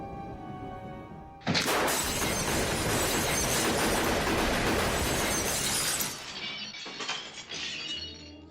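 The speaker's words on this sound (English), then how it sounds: "machine gun bullets shatter the window" In The Godfather, machine gun bullets shatter a window with a sudden loud crash. Glass keeps breaking and tinkling for several seconds, then smaller fragments clink and settle.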